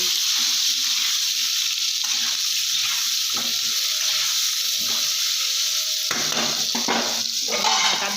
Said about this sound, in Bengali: আর দিয়ে দিলাম একটু হলুদ দিয়ে আমি লাল লাল করে ভেজে নেব